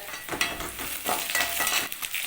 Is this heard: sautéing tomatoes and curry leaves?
yes